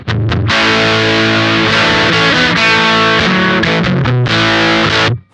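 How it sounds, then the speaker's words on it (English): Overdrive pedal set to its LED clipping mode, giving a loud, aggressive, mid-forward distorted electric guitar riff of chords and single notes played continuously alone for about five seconds. "on the clockwise most setting, we have LED clipping"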